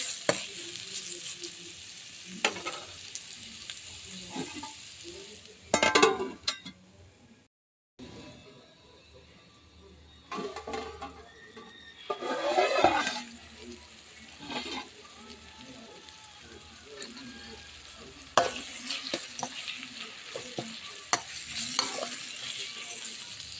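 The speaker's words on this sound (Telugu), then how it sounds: "ఇప్పుడు కొద్దిగా సేపు ఆయిల్లో మగ్గనిద్దామండి" Vegetables in hot oil for egg curry, salted and stirred as they soften in the pan. The sizzle is steady and close, rising in louder bursts with each stir, and drops out briefly for a moment partway through.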